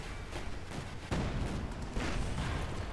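Sherman 105 tank cannon firing in the video game Company of Heroes 2, heavy booming shots cutting through dense, continuous battle noise, with a sharp report near the middle and another toward the end.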